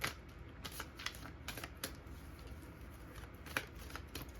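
Tarot cards being shuffled by hand, a soft papery riffle of repeated quick flicks and slaps in bursts across the clip, close and fairly quiet with no voices.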